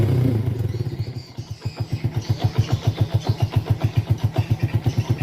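Yamaha Jupiter Z1 motorcycle engine running with a misfiring stutter, first a rough rev, then a steady, even pulsing idle with a regular throbbing beat, close and loud, no talk.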